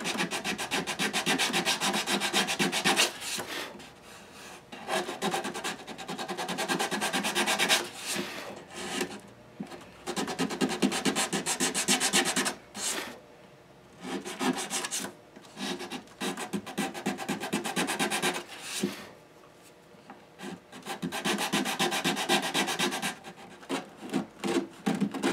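Sandpaper is worked across the fingerboard surface of a Martin D-41 acoustic guitar, where pearl inlays meet wood. Long, continuous rasping strokes sound close and steady, broken by a few short pauses.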